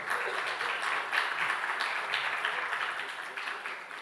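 Applause from a conference audience at a dairy-industry animal disease management session, a steady dense clapping wash filling the room for several seconds, moderately loud and unbroken.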